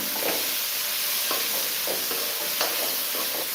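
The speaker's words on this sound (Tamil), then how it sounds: "புதினா வந்து உள்ளார சேர்த்துடலாம் சேர்த்துட்டு நல்லா வதக்கி விட்டுக்கலாம்" Fresh mint leaves sautéing in a pan: a steady bright sizzle with soft, intermittent stirring scrapes throughout, close and moderately loud, with no talking.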